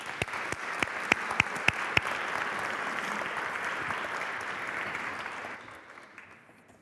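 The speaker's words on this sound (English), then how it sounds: "Please give him a warm round of applause." Warm round of applause from the audience at a copyright-and-science symposium, opening with a few sharp individual claps before a dense, steady wash of clapping that fades out near the end.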